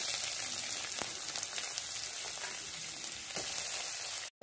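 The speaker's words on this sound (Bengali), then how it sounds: "এবার পেঁয়াজগুলো দিয়ে দেবো।" Onions sizzle steadily in hot oil with cumin and bay leaf for a lentil tempering, a dense, continuous crackling hiss up close with no voices, cutting off abruptly at the end.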